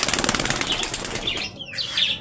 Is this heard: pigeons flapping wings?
yes